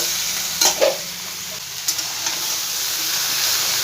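Cumin and coriander powder stirred in a pan over a medium flame for a mixed-vegetable sabji; a few close scraping strokes sound early on, then a soft sizzle continues alone.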